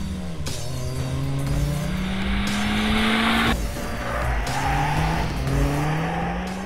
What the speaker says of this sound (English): From standstill, the GRMN is eager to zing all the way to redline